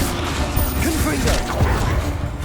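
A Confringo fire spell explodes in Hogwarts Legacy, a loud, dense roaring blast with crashing and whooshing layers that fills the whole moment, with a voice briefly heard through it.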